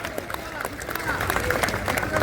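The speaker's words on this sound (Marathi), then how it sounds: "सगळ्यांनी ज्यांच्याकडे हातात त्यांनी टाळ्या करा" Crowd clapping at an outdoor kusti wrestling match in Wadki, Pune, a dense patter of hands under an announcer's loud voice, swelling slightly toward the end.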